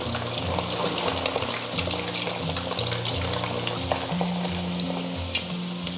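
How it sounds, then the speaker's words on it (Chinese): Shrimp deep-frying a second time in very hot oil for a crisp finish, giving a steady loud sizzle and bubbling with a low rumble underneath, continuous throughout with no voices. "复炸一遍，油温烧至8成热，我们再下入虾仁"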